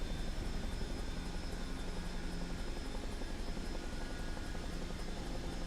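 Chinook helicopter rotors in Microsoft Flight Simulator 2024, a steady dense whine and rumble with faint rhythmic rotor pulsing, running continuously and loud throughout with no talking.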